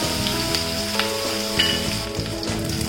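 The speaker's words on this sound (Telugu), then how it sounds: "ఆయిల్ హీట్ అయిన తర్వాత 1/2 స్పూన్ పోపు దినుసులు, 1 ఎండుమిర్చి, ఇంకా మీడియం సైజ్ ఆనియన్ చిన్న ముక్కలుగా కట్ చేసుకొని వేసుకోవాలి" Half a spoon of tempering spices, one dried red chili and a finely chopped medium onion sizzle in hot oil, with a continuous close, even frying hiss and no speech.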